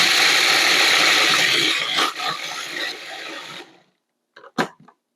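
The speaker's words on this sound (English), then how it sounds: "this is going into a food processor. Then we're going to just pulse those slivers until we achieve a nice flour consistency" A food processor grinds almond slivers into flour in a loud, continuous whirring burst lasting nearly four seconds, then cuts out, followed by a few short clicks and one sharp knock.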